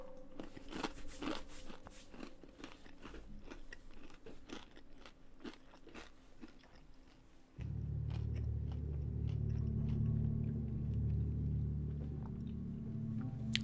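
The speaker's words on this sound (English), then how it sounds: "munching into your ears isn't great" Close, crunchy chewing of a snack, with irregular bites and crackles, then a steady low rumbling hum joins in partway through; no one speaks.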